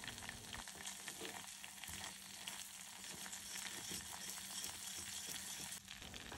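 A mixture cooks gently over very low heat in a pan, giving a steady, even sizzle and bubbling hiss with soft stirring scrapes throughout, close and continuous with no voices.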